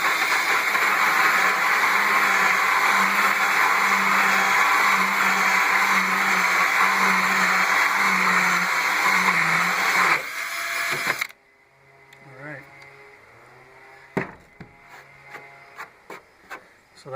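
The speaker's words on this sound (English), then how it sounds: "I'll go ahead and finish drilling this out," A drill bores into wood for a solar air heater build, a loud, steady grinding whir for about ten seconds that suddenly stops, followed by quieter clatter and scattered knocks of handling the workpiece.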